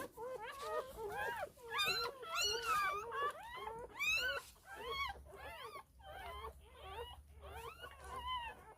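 Puppies whimpering and whining in rapid, high-pitched bursts, close by, one cry after another with only tiny pauses, after being pulled from water.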